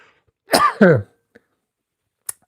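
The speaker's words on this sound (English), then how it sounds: "Excuse me while I clear my throat." A person clears their throat twice in quick succession, close and fairly loud, followed by a couple of faint small clicks in an otherwise quiet room.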